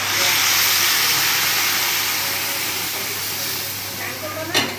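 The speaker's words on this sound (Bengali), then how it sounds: "এবার গরম জল ঢেলে দেবো।" Hot water poured into a hot cooking pan after frying spices, giving a loud, steady steamy hiss that fills the whole stretch and eases off slightly near the end.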